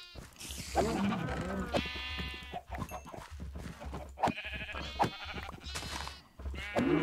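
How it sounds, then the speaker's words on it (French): Baby sheep in the video game Minecraft bleat repeatedly in short wavering cries, close and fairly loud, mixed with a steady background hum and other animal noises, while players talk in French over them. "Oh non, le bébé mouton il pleure."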